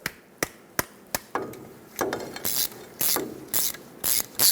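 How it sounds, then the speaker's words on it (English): Sharp ratchet clicks from a 14mm socket wrench break loose a brake caliper banjo bolt on a Ford E-350 van, a few spaced clicks and then faster bursts of ratcheting, close and clear. "use a 14mm wrench or socket. Break free the banjo bolt on the old caliper."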